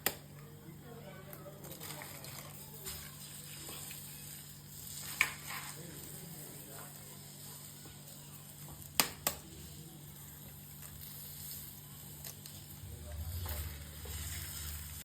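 Onion, cabbage and carrot fry in a pan as two eggs are cracked in for egg fried rice, giving a soft steady sizzle with faint scraping stirs and a couple of sharp taps.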